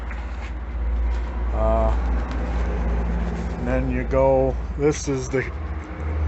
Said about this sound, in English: Sorry about the noise, we're right on the highway.